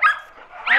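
A boxer dog gives two sharp, loud barks close by, less than a second apart.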